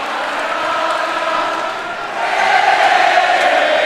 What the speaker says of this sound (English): The crowd is screaming goodbye